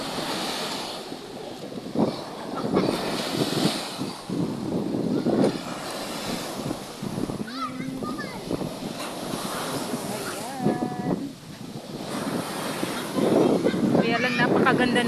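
Rough sea waves slosh and crash against a boat while wind roars across the microphone, a loud, continuous churning with surging swells, and voices speak intermittently over it.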